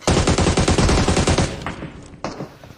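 Machine gun fire from the video game PUBG: a loud, rapid sustained burst for about a second and a half, then a few separate single shots trailing off.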